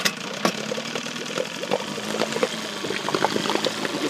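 A 1971 Johnson 6 hp long-shaft outboard motor idling, a steady mid-pitched putter with light knocking, mixed with splashing water from the cooling discharge, close and moderately loud.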